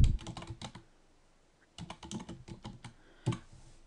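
Someone types a book title on a computer keyboard, tapping out two quick close-up bursts of keystrokes separated by a short pause, with a final clack at the end.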